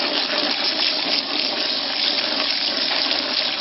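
Steady rushing water pours continuously through a flotation tank, washing silt out of an archaeological sample; a dense, even hiss-like flow with no pauses, close and fairly loud throughout.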